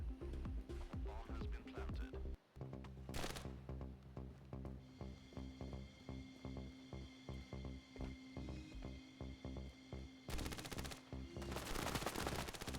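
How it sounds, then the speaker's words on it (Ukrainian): Rapid automatic gunfire in the Standoff 2 shooter on the Sandstone map, long loud bursts of close shots with brief gaps and a few heavy blasts, over a steady game soundtrack. "я почав в нього стріляти"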